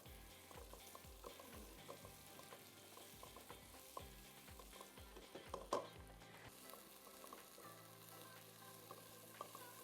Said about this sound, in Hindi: प्याज सौटे करना है आपने ऑलिव ऑयल में